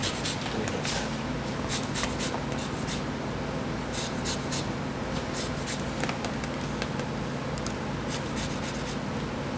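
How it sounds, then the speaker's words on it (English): Lemon rind is rubbed against a microplane zester in a kitchen, giving repeated quick scraping strokes in irregular bursts over a low background hum, close and fairly soft. "this is a microplane zester, and it's the best thing ever. It zests limes, lemons, and works wonders"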